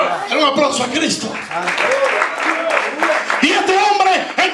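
Applause for Christ rises from a Spanish-speaking evangelical congregation during a fiery sermon, the clapping mixed under loud, emphatic voices throughout.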